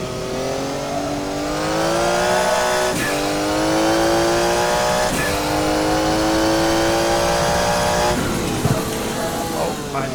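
A Porsche 956 race car engine in a racing video game, loud and continuous with rising revs through the gears and sharp drops at each shift, under a steady near drone.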